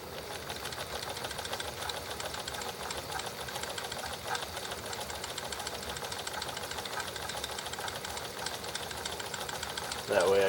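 A domestic sewing machine runs a very short test stitch, giving a steady, fast mechanical rattle that continues close and evenly for about ten seconds, with a brief louder burst at the end.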